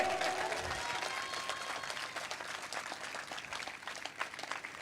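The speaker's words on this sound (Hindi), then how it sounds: "अरे और जोर से ताली बजाओ खुदा के लिए।" Church congregation applauding during a sermon, steady dense clapping from a crowd filling the whole stretch without pause.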